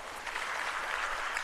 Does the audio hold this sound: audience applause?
yes